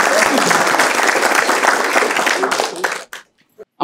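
Audience at an Odia stand-up comedy show claps for the host, a dense burst of applause that fades out after about three seconds into near silence.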